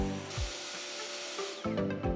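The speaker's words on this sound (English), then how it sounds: "Drill a hole within the outlined area" A power drill bores a hole into a desk top, giving a steady whirring drone across most of the clip that ends in a brief higher-pitched burst near the end. The sound is close but fairly quiet, with no talking.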